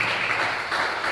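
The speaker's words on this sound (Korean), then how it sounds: "우리 모두 환영합니다 하고 박수 한번 쳐주십시오" A church congregation applauds during a Sunday service, a brief, dense burst of many hands clapping at close range with no voices.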